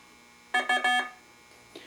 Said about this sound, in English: it counts down the final tenths of a second and then gives the lockout sound